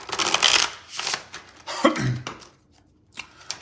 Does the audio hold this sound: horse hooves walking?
no